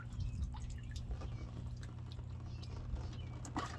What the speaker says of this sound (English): water coming out of it